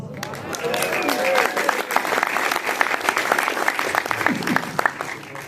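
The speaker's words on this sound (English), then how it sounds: "Thank you for the applause." Lively applause from a performing arts center audience, thick clapping that runs steadily throughout with voices mixed in underneath.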